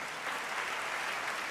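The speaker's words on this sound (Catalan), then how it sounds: "Ara sí, un aplaudiment." An audience at a celebration in the Liceu applauds with a continuous, even wash of clapping, moderately loud and without any talk.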